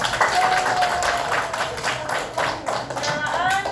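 A group gives a round of applause at a teachers' session in Kalimantan Selatan, with dense, close clapping that holds steady for several seconds while voices call out over it.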